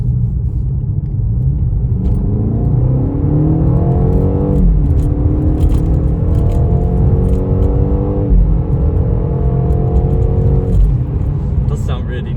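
A 2022 BMW M8 Competition xDrive coupé with a 4.4-litre engine revs and pulls hard through several rising gear sweeps, a loud, close, throaty roar with a voice talking over it.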